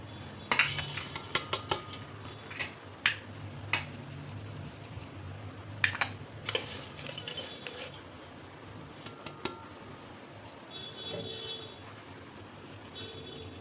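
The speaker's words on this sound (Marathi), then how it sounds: "हिला गाळून घ्यायचे." Ground tomato powder from a mixer grinder is sieved through a metal strainer, with a string of sharp scraping taps and rubs, close and uneven, then softer brushing toward the end.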